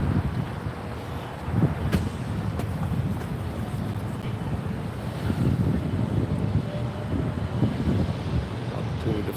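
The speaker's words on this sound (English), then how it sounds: "it may get a little bit windy here" Gusty wind buffets the microphone with a steady low rumble, rising and falling over a constant whooshing background.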